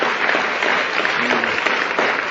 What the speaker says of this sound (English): how about a round of applause for Robert Anton Wilson?